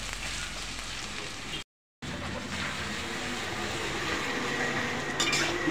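Onions sizzling softly in a frying pan for a chicken and potato curry, a steady low frying hiss that drops out briefly, then continues with faint stirring.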